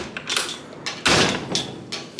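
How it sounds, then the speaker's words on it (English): An apartment door that won't close is pushed and knocked several times, with scraping and a heavier thump in the middle, fairly close. "Why won't this door close?"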